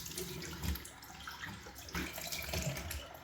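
Water runs from a tap into a sink while someone rinses their face, a quiet continuous splashing with no talking.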